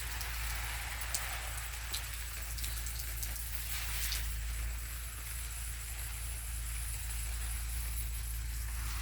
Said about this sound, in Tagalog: Umuulan at ayan.